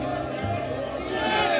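Large crowd of devotees at the Ayodhya Ram temple, a dense continuous murmur of many voices with scattered shouts, steady and fairly distant throughout.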